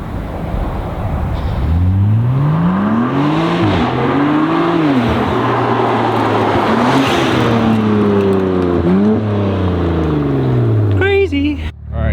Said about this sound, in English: now the owner of the car is going to take a couple hits on it